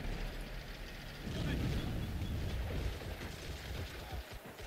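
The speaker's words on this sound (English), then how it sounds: "There's a massive explosion back here for some reason." A massive explosion rumbles in a World War II strategy game during a 2v2 match, a broad, loud boom rolling out over a steady noisy battle background.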